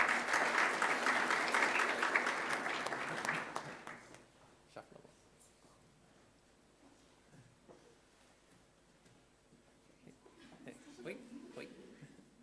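A school sports awards assembly applauds its netball players: loud, dense clapping from a large group for about four seconds, then a quieter stretch with murmuring voices and scattered light sounds.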